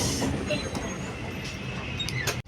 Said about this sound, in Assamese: গাড়ী গৈ আছে ৰেলগাড়ী